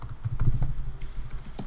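Rapid keyboard typing during a game of Minecraft, a busy run of close, clicky keystrokes with a few louder taps, heard up close with no talk over it.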